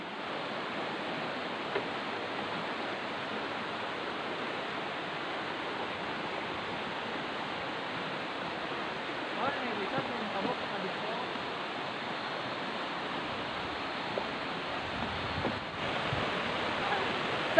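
Catherine Falls sends up an even, unbroken rush of falling water, fairly soft and constant, with no pauses or changes in strength.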